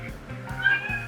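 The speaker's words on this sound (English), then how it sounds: "The cat's just gonna cry." A cat cries with a short pair of plaintive meows, close and fairly quiet over a low background hum.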